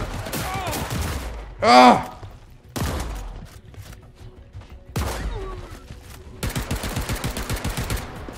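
Shotgun blasts and rapid gunfire from the video game Paint the Town Red: loud, sharp bursts come in separate volleys, then a fast rattling string of shots near the end. A player cries out briefly.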